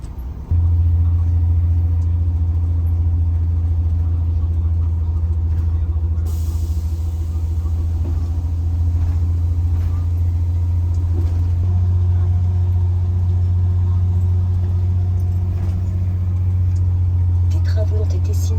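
A converted coach bus fitted with a Tesla electric motor cruises along a road toward Peñíscola, a steady low drive hum and road rumble running throughout with faint background sound.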